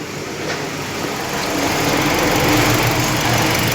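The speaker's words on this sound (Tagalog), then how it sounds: "Corolla 2016 knocking noise." A 2016 Toyota Corolla engine runs steadily with a buzzy, even mechanical drone, close and fairly loud, slightly swelling after the first second; a knocking fault is reported though no distinct knock stands out.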